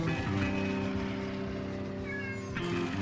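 A cat meows during a late-night radio show sign-off, its calls rising over a steady background hum with no talk over them.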